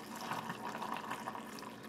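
Hot water pours into canning jars of garden parsnips, a soft, steady liquid fill with gentle gurgling, faint and close, with no talking.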